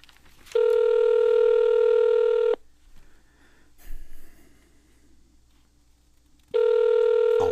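A telephone rings twice, each ring a steady two-second electronic tone, with a quiet pause and faint breathing between them.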